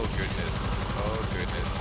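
Gunfire from the video game Tesla vs Lovecraft, heard as a dense, continuous stream of rapid shots that stays loud and steady for the whole brief moment.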